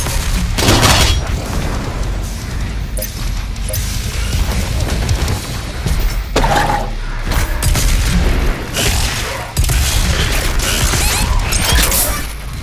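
The BFG 10,000 fires in DOOM Eternal, with heavy booming blasts layered over grinding, creaking machinery. Loud bursts repeat across the whole stretch, with short gaps between surges and no voices.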